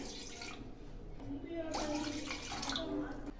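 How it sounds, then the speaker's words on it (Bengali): Water is poured into a bowl to start a dough for homemade egg biscuits, a soft splashing trickle heard close and fairly faint underneath a woman's speech. "এই রেসিপি বানানোর জন্য এখানে আমি 2 কাপ জল দিলাম"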